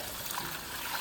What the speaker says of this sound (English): Now I'm just going to pour that into this bucket here.